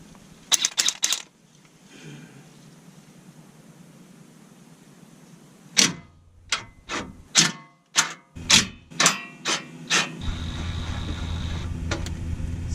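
An electric drill with a left-handed bit works on an oil pan bolt of a Chevrolet Silverado with an LML Duramax diesel, giving a run of sharp, short bursts and then a steadier sustained whir, after some earlier clicks and a quiet stretch.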